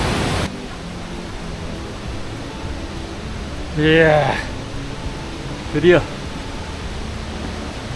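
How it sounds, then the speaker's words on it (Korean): A large waterfall in a canyon in Guangdong, China, roars as a steady, dense broadband rush that fills the whole clip, with two short bursts of a man's speech rising over it. "응용 대폭포 아래 에 도착했습니다"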